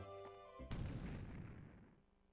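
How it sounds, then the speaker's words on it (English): An earthquake or explosion in the Pokemon Ranger: Shadows of Almia video game, a single sudden boom that cuts off the game music and rolls into a rumble fading over about two seconds. "There's that earthquake. What was that, an explosion?"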